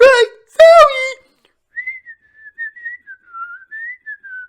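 A person whistles a wavering, meandering tune of sliding notes after a brief burst of speech, the melody clear and close against an otherwise silent background.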